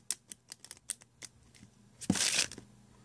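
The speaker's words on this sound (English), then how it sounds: "I'll try to do the riffle shuffle really slow." Playing cards being riffle shuffled slowly, a series of separate soft clicks and flicks followed by a brief louder rushing riffle, with no talk.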